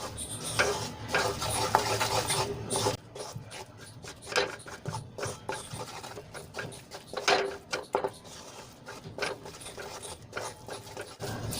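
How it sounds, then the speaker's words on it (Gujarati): Flour being stirred and roasted in a pan for sukhdi over a low flame, giving a steady scraping, rubbing texture with irregular bursts of stirring strokes throughout, close and moderately loud, with no talk. "હલાવતા રહેવાનું છે અને લોટને સરસ રીતે આપણે શેકી લેવાનો છે"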